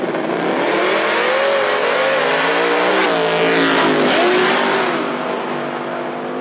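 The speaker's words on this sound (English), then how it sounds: "Up next, we've got Josh Poor in his Fox body Mustang versus Brandon Stevens in his F-body Camaro." A Fox body Mustang and an F-body Camaro launch in a drag race at a dragway, loud engines roaring and revving through rising and falling pitch sweeps as the cars accelerate away, with no talk.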